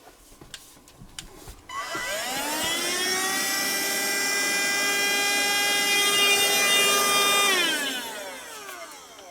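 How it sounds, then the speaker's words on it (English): A small handheld mini vacuum spins up with a rising whine, holds a steady high-pitched motor drone for several seconds, then winds down, loud and close with no talking over it. "I need my mini vac to clean that up"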